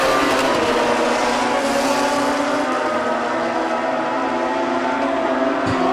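A 2007 Suzuki Hayabusa and a 2009 Kawasaki ZX14 run a drag race side by side, their engines a loud, sustained high-pitched wail that stays steady and dense, with no voices over it.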